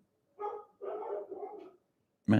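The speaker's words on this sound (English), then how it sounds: "dogs are barking out there" Dogs barking outside, heard faintly at a distance as a few short muffled barks in quick succession, followed by a sudden louder thump at the end.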